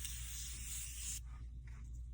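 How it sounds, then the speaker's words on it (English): A setting spray mist pumped from a bottle during a pink makeup look, one close, loud, steady hiss lasting just over a second that cuts off abruptly, leaving a faint room hum. "I'm going to put this setting spray."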